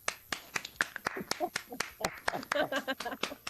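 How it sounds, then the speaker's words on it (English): A small group in a room claps together, quick sharp hand claps in a loose, uneven rhythm, with voices talking over them. "Here we're gonna do a room clap for that"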